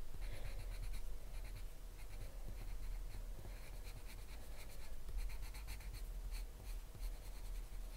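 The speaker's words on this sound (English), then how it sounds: "It's kind of scratching on the paper." Derwent Coloursoft colored pencil scratching across paper in steady, continuous strokes, a close and fairly quiet dry rasp with a faint rhythmic texture and no talking.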